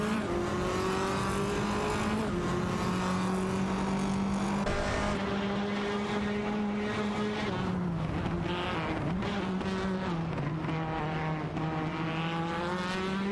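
Engines of AI-driven touring cars in a racing video game, including a Honda Civic FA and an Alfa Romeo Giulietta TCR, drone steadily at close range, their pitch rising and falling together with no one talking.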